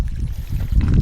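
Water rushes out of a pump fitted with a float switch in an old house under renovation, a loud, steady gushing pour with a dense low churn that swells slightly near the end.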